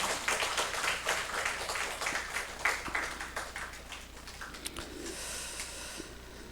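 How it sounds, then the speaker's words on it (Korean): Applause from a church congregation at a Sunday morning worship service, a soft, somewhat distant patter of many hands that thins out and fades toward the end. "우리 박수로 축복하겠습니다"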